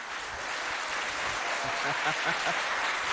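Schoolchildren and audience applauding a pupil at a school event, steady moderate clapping from a crowd throughout, with faint voices underneath.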